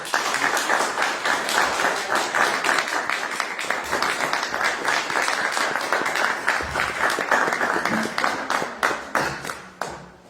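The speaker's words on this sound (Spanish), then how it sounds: "un aplauso para Jesús" A church congregation claps steadily in a broad, even wave of applause that holds for several seconds and then thins out and fades at the close.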